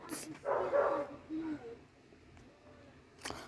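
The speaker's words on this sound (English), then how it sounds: "my neighbor dog is barking a lot" A neighbor's dog barking off in the background, a few muffled yips and barks in quick succession that fade out, with a sharp noise near the end.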